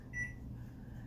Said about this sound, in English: Sorry if you hear the beeping, that's the clock.